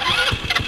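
A Mini RZR 170 clone UTV engine catching as it is started: a brief, close rough cranking that turns into sputtering engine pulses within under a second.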